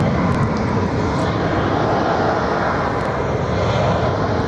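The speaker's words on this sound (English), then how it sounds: "When you hear that in here, especially, how powerful these engines are." Powerful roar of airliner jet engines during a departure at Barcelona airport, a loud continuous broadband rumble that holds steady and dominates throughout, with no talk over it.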